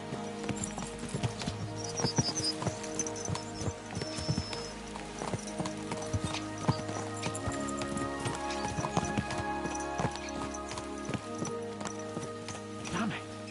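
Horses galloping in the video game Kingdom Come: Deliverance 2, with steady rhythmic hoofbeats running throughout under game ambience and occasional talk.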